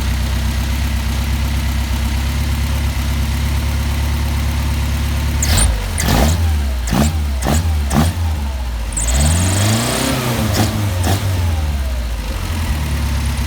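A Mercedes-Benz 190SL engine with Weber carburetors idles evenly, then is blipped and revved several times in quick bursts, loud and close, before settling back to idle.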